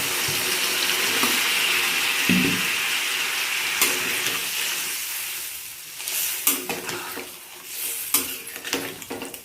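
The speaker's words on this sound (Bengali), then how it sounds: "এখন এর মধ্যে দিয়ে দেবো জল, যেরকম ঝোল রাখবো সেরকম হিসাবে জলটা দিয়ে দেবো" Water pours into a pan of pointed gourd and shrimp curry with a steady rushing splash that drowns the frying sizzle. As it ends, irregular stirring clatters and bubbling take over, close and fairly loud, with no voices.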